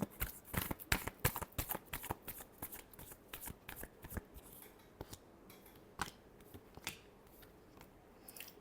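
Tarot cards shuffled close by in quick riffling bursts and soft slaps, an irregular patter of papery flicks that continues throughout, fairly quiet.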